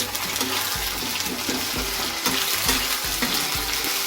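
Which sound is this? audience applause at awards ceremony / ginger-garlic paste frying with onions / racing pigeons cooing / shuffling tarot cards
ginger-garlic paste frying with onions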